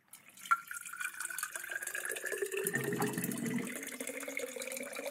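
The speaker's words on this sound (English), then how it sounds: "That's some water being taken out of a water cooler." Water glugs and trickles from a water cooler into a cup, with a gurgling bubble partway through. The sound is quiet and close.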